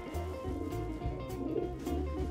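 Low, soft cooing from a racing pigeon close by, a few throaty murmurs in a short steady run.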